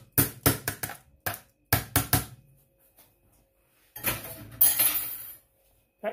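A spoon stirring spices into chicken keema with egg and fresh coriander in a metal pot, sharp clinks and scrapes in irregular bursts separated by short quiet gaps, no talking.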